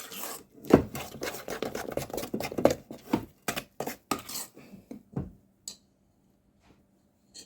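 Spoon clattering and scraping through lemon drizzle cake batter with lemon curd in a bowl, quick irregular knocks and rubs close by that slow and thin out toward the end, no voices.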